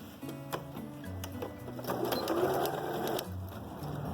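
A sewing machine stitches through fabric and quilt batting, a close steady whir of rapid needle strokes that speeds up in the middle and then slows, with no talk.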